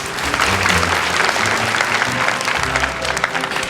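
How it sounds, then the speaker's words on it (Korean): An audience at a youth talk concert breaks into loud, steady applause for a speaker that carries on for several seconds. "대장님께 박수 한번 보내주세요."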